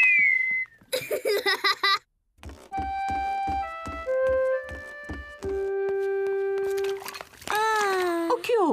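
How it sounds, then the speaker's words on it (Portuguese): A series of clear, sustained whistled notes stepping between pitches, followed by a wavering whistle, with a brief giggle-like sound at the start. "George consegue assobiar."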